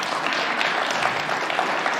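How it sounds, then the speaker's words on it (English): Steady, dense audience applause for speakers at a tech data summit, loud and sustained throughout the short stretch with no talking over it. "Another round of applause for Sam and Yuri."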